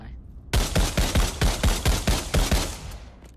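A PPSh submachine gun fires in the VR shooter Pavlov in one loud, close burst of about nine rapid shots at an even rhythm, after a brief quiet start, with no talking.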